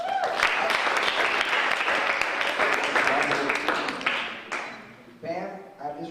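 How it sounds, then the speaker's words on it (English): A conference crowd at an entrepreneur event bursts into dense, loud applause that holds for about four seconds, then thins into scattered claps and cheers before fading. "Give a big round of applause."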